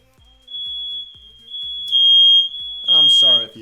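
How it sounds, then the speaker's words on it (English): Smoke alarms going off inside a house give a long, piercing, high electronic tone that rises and falls in loud pulses, with a voice speaking over the end. "The fire alarms in my house are going off."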